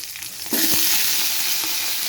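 Potatoes fry in a pan with panch phoron and slit green chilies, a hiss that swells to a loud sizzle about halfway in, with a couple of stirring scrapes and no voices.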